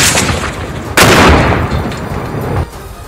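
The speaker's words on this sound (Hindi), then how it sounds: "हूथी लड़ाकों ने सामने निशाना साधकर ताबड़तोड़ गोलियां दाग दी" Houthi fighters fire rapid gunshots in a loud, dense burst. A sharp crack opens a sustained roar of overlapping shots that runs for about two seconds before cutting off.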